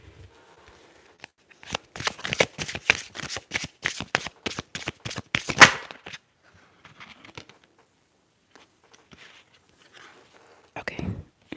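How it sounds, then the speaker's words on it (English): Tarot cards shuffled in quick, crisp riffling bursts close to the mic, a dense run of snaps followed by softer scattered shuffles, with a quiet voice speaking softly between them. "so I'm gonna keep shuffling"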